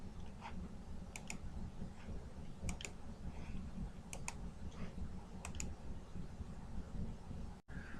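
Computer mouse buttons click in small pairs and clusters spaced a second or so apart, crisp and close against a quiet low room hum.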